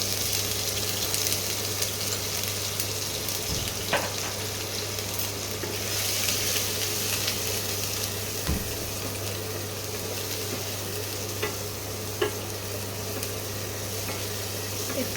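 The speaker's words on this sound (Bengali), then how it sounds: "একটু পেঁয়াজটা ভাজা ভাজা হোক" Onion paste sizzles steadily in a hot pan while a Bengali doi katla is cooked, a continuous close frying hiss with a few small clicks and no talking.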